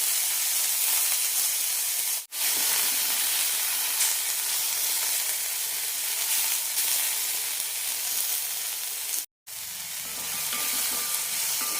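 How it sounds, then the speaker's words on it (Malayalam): Chopped tomatoes sautéing in a pan for street-style masala poori give off a steady, even sizzle that runs for several seconds, broken by two brief silent cuts. "തക്കാളി വെന്തുടയുന്നത് വരെ വഴറ്റിയെടുക്കാം"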